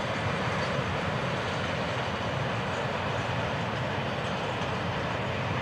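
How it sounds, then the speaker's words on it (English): An FEC train rolls into Fort Pierce as one dense, unbroken roar that stays steady and loud throughout. "This great train is on its way into Fort Pierce"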